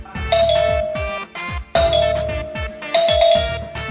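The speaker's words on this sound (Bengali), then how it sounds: "ওই দেখ আবার ক্যাডারা কলিং বেল বাজাইতেছে" An electric doorbell rings at home, three bright ding-dong chimes in quick succession, loud and close with short gaps between them.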